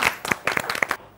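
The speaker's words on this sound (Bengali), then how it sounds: "জোরে করো তালি দিয়ে" A game-show studio audience clapping in a short burst of about a dozen quick, close claps lasting under a second, then falling silent.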